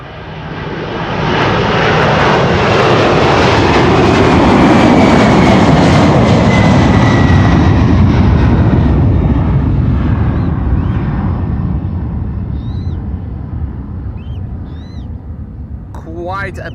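An old airliner's jet engines roar at Amsterdam Schiphol Airport, a loud sustained passing rumble that swells, holds, then slowly fades as the aircraft moves away.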